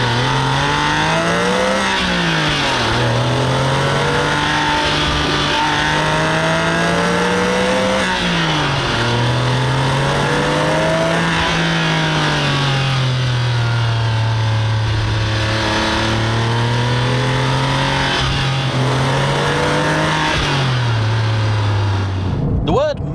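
A Porsche 996.2 911 GT3 pulling hard on a drive, its engine loud and close as it climbs through the revs in repeated rising surges, each broken by a quick dip at the gear change, the sweeps repeating through several gears.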